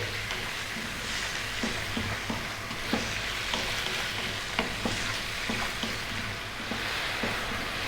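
Beef masala sizzles and fries steadily in a pan, a continuous hiss broken by soft scraping knocks of stirring every second or so, moderately close and without talk.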